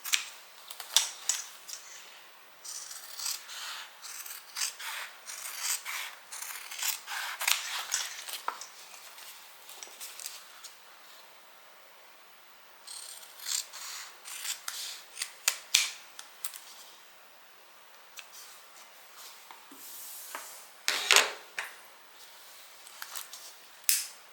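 Scissors snipping away excess leather while sewing a Hammitt-inspired leather bag, heard as bursts of sharp, crisp close-up cuts separated by short quiet pauses.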